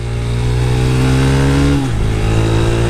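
A Yamaha YBR 125 commuter motorcycle's single-cylinder engine revs loud and close with a steady, buzzing drone that briefly dips and drops in pitch near the end.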